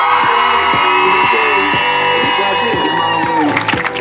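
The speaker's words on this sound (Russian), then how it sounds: "Ну и аплодисменты 7-му отряду!" A youth camp crowd at Volna in 2018 erupts in loud whoops, shouts and cheering for the 7th squad, voices held in a continuous roar that breaks up briefly at the end.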